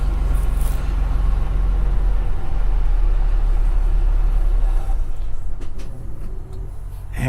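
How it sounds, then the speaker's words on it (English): A loud truck rumbling past, a heavy sustained low roar that holds steady and then fades toward the end, close and dominant with no talk over it. "And that truck loud as hell."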